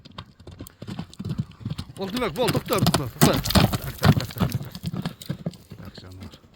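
Horse hooves clip-clop at a walk, a steady close rhythm of hollow knocks continuing throughout, with someone talking over them in a rural setting.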